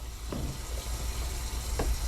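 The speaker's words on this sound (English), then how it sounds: "Fill it with water." Water runs steadily into a container holding a small bar of soap, a continuous hissing pour with a couple of brief knocks, close and alone.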